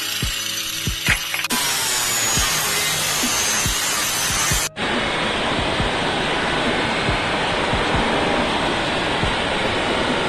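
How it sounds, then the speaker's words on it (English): A flap disc grinder cuts and cleans up a car fender flare on a twin-turbo Z31 widebody build, a loud continuous abrasive roar with rough scraping pulses that shifts pitch midway and keeps grinding to the end. "Just gotta cut that and then clean it up with the flapper"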